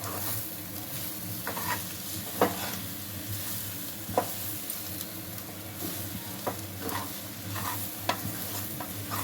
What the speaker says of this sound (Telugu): కొంచెం గరం మసాలా, కొంచెం మిరియాల పొడి కొని మొత్తం కలుపుకోవాలి.